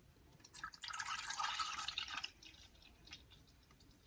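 Organic 2% milk, 1,000 milliliters, pouring into a saucepan, a soft, steady liquid splash lasting around two seconds before trailing off into faint drips, heard quietly and alone.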